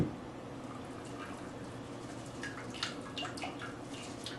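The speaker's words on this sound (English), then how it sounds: "I'm just going to pour this hot water over again to make sure I get everything that I can possibly get out of the bones." Hot water is poured over boiled chicken bones for broth, a quiet steady trickle with scattered drips and small splashes, close by and faint throughout.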